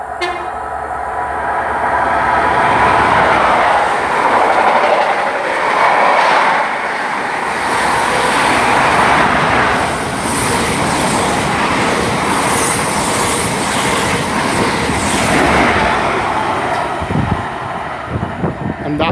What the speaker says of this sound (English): Right, coming through now, we've got a couple of HSTs.